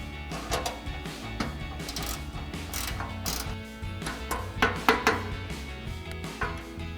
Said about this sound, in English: we can tighten these down using our 10mm wrench and the provided Allen key